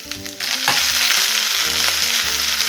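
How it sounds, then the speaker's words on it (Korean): Cabbage and mixed vegetables stir-frying in a hot wok for spicy webfoot octopus, a loud, continuous close sizzle with tossing and scraping of the ingredients, no voices. "어느 정도 열이 올라오면 양배추 먼저 볶아주도록 합니다"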